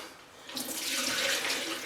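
A tap is turned on partway through, and running water swells into a steady, fairly close splashing hiss into a sink that holds to the end.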